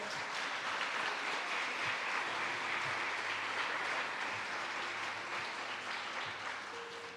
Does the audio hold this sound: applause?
yes